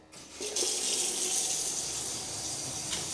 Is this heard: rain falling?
no